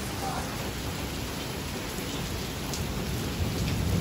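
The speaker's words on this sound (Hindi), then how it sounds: "बहुत तेज़ बारिश हो रही है" Heavy rain in Lahore pours steadily in a dense, constant hiss, with low rumbles of thunder underneath throughout.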